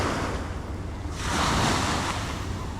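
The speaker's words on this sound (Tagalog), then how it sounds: "dinig na dinig niyo yung agos ng tubig mula sa dagat" Steady surf and rushing seawater wash over a La Union beach in the Philippines, a continuous close roar that swells louder halfway through, with wind buffeting the microphone.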